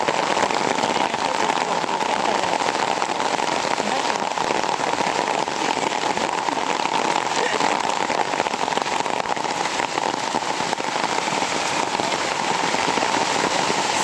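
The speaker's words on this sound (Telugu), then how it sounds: "ఫుల్ వర్షం పడుతుంది." Heavy rain pours down at the entrance of a temple in Bali, a dense, loud, constant hiss of drops striking the ground, steady throughout and not interrupted by any voices.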